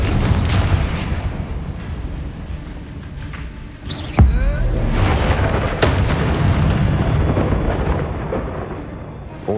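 A Confringo explosion spell goes off in the video game Hogwarts Legacy. One sharp booming blast lands midway through a dense, rumbling layer of game sound.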